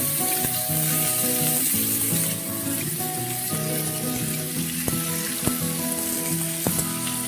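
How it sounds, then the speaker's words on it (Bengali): Onions frying in a pan for an egg curry, a continuous sizzle with occasional stirring clicks, close by, while faint tonal music plays in the background. "দিয়ে রাখা পেঁয়াজগুলো ভালো করে ভেজে নেব"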